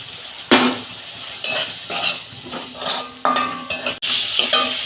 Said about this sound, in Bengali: আলু দিচ্ছি,